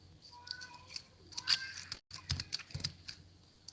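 Short bursts of computer keyboard typing entering a Stata graph command, quiet and close, with irregular clusters of key clicks and a brief pause midway, no talking.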